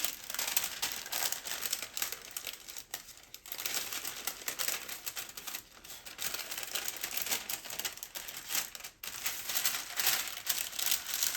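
A paper sewing pattern piece for a blazer is folded to close a dart, giving steady crinkling and rustling paper sounds close by, with brief pauses, no speech.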